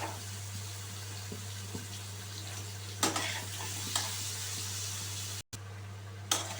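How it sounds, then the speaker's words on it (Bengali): Potatoes fry in a pan with salt and turmeric, a steady sizzle with scraping stirs and occasional louder clatters over a low hum, no talk. "নুন হলুদ দিয়ে আমি আলুগুলোকে খুব ভালো করে লো টু হাই ফ্লেমে আলুগুলোকে আমি ফ্রাই করে নেব।"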